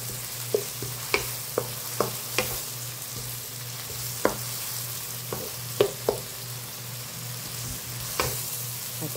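Balut with bacalao fries in a pan under a continuous close sizzle and a low steady hum, while irregular sharp clicks and scrapes from stirring pop out above it, with no voices.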